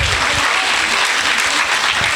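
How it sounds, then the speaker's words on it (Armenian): Loud, steady applause from an audience clapping for children at a vocal studio event, a dense, even roar of hands throughout. "Բարձր, ավելի ծափահարեք։"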